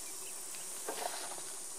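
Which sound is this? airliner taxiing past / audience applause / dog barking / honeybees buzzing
honeybees buzzing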